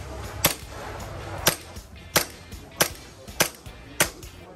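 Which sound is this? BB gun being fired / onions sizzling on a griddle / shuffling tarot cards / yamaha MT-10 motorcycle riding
BB gun being fired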